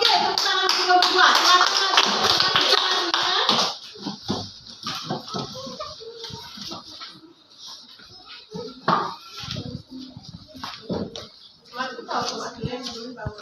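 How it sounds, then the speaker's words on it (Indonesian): Classroom group in Indonesia applauding another group, a dense burst of clapping for about four seconds that then thins into scattered claps and chatter as people talk. "tepuk tangan untuk kelompok 2"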